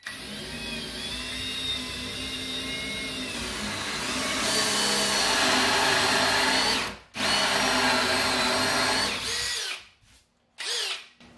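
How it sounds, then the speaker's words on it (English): A power drill bores holes through a wooden wardrobe door, its loud whining motor rising in pitch as the bit bites, then cutting out briefly before a short final burst. "it's a good idea to drill from both sides, that way you won't blow out the back of the door"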